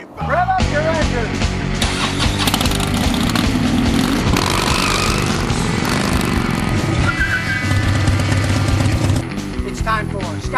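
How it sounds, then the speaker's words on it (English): A car engine revs hard and close, a loud, sustained mechanical roar that fills the whole stretch with little letup. "Rev up your engine."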